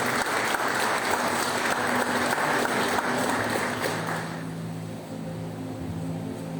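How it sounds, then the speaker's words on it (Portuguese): A church congregation applauds, a dense loud wash of clapping that fades out after a few seconds, leaving a low sustained tone underneath. "Você pode aplaudir o Senhor mais uma vez?"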